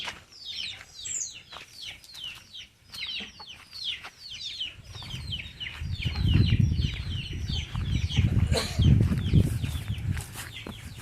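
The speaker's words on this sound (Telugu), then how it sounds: "ఇక్కడ మనకి తోటలో వచ్చేసి అయితే మనకు మెయిన్గా నాటుకోళ్ళు ఉంటాయి" Medak breed country chickens on a farm cluck and call in quick irregular bursts, nearby, with soft wing flutters and rustling that build in the second half.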